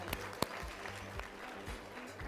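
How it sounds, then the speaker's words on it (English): Audience applause for a Suntrust Bank executive at a business incubator gathering, a soft, scattered patter of clapping with a few sharper claps standing out, fairly distant and low in level. "Give him a round of applause"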